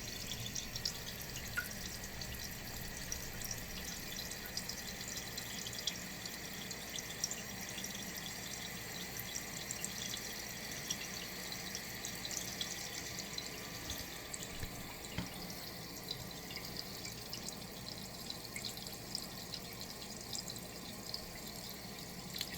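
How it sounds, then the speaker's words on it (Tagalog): Water runs steadily into a toilet tank through a fill valve as the float rises, a continuous faint trickling and hiss that keeps an even level throughout with no talking. "The float switch deactivate the flowing water that goes inside the tank"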